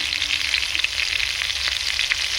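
Ground ginger-cumin paste with dry chilli powder and turmeric frying in a pan, a bright, dense sizzle with occasional spitting pops and faint stirring, close and steady throughout.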